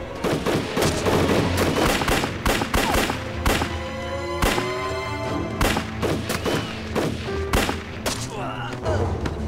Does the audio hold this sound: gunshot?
yes